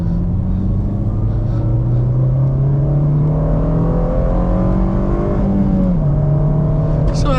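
An 8th-generation Honda Civic Si engine with Hondata tuning drones loudly at steady revs, pitch rising slowly then dropping with rev hang, a continuous close rumble throughout.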